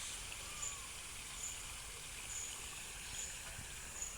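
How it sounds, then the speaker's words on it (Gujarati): Water flows through a field irrigation channel on a farm. It is a faint, steady trickling stream with soft, regular high chirps over it. "અને માંડવીમાં પાણી પણ જાય છે મસ્ત"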